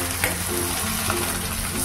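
Rice frying in ghee and oil with cardamom, cinnamon and cloves, a loud continuous sizzle with occasional light stirring scrapes, close and without talk.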